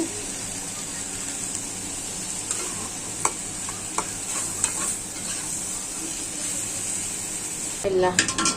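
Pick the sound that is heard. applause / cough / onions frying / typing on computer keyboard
onions frying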